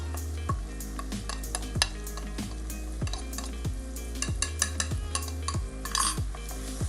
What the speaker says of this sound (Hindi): मसाला हमारा अच्छी तरह भून चुका है।